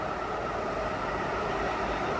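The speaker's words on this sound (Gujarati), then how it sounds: "આ બીજી ટ્રેન જાય છે" A high-speed bullet train in China rushes past at a distance at over 350 km/h, a steady, fairly faint broadband roar that holds evenly throughout.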